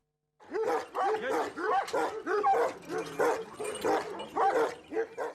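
Kangal dogs barking and yelping in a steady run of loud, close barks with short gaps, some higher whining notes mixed in, with no talking.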